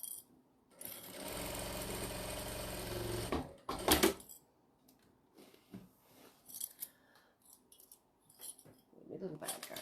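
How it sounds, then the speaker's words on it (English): A sewing machine stitches a tote bag in one steady, continuous run of about three seconds. A clatter follows, then quieter intermittent handling noises. "So in there, pop it under the needle, back stitch,"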